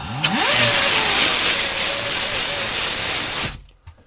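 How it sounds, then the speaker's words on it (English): An angle grinder spins up and grinds a rough metal edge during an RV hot water heater install, a loud, steady high whine with harsh hiss that lasts about three seconds, then cuts off and winds down. "I'm going to go ahead and doll that up just a little bit with an angle grinder"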